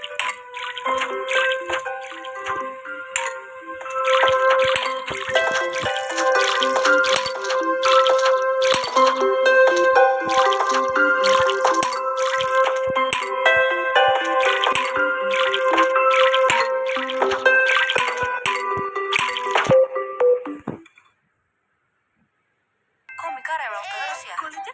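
Playful game sounds from Plants vs. Zombies as plants are watered, tinkling, watery chimes and bubbly tones repeating continuously for about twenty seconds, then stopping and briefly resuming.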